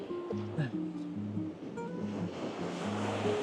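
Incoming tide waves wash steadily along a Brazilian beach, a continuous close surf hiss filling the clip, with a droning, pulsing hum laid over it and no voices.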